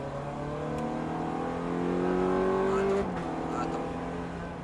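A Ferrari F430 accelerates hard on a race track, its engine note climbing steadily to a loud wail before a quick shift drops the pitch, heard from inside the car under a voice giving instructions.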